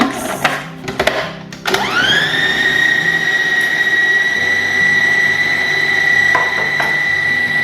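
A blender mixing hummus with garlic and olive oil: a few brief bumps, then the motor spins up to a loud, steady high whine that runs on without a break.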